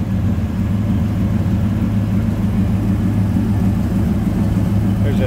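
A 396 V8 engine in a 1941 Plymouth PT125 pickup street rod idles steadily with a low, constant rumble heard close up under the open hood, and no talking.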